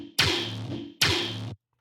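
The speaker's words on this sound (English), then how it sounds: "Very simple bass shot." Two punchy synth bass shots with no frequency shifter, each a loud hit that decays over about a second, the second following closely after the first, dry and alone with no talk.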